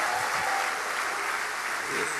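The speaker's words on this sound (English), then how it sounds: "let's give the Lord a clap offering" Church congregation clapping as a praise offering, a thick, continuous roar of many hands held at an even, loud level from start to finish.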